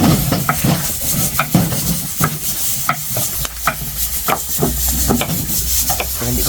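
Ingredients stirred and scraped in a pan over a steady sizzle, with spoon clinks against the metal at an uneven rhythm, close and fairly loud.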